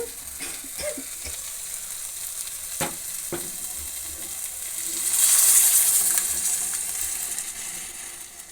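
Cooked dal goes into a hot pan already seasoned with turmeric for sambar, sizzling and bubbling with a few sharp clinks and scrapes of stirring, the fry swelling louder midway before settling.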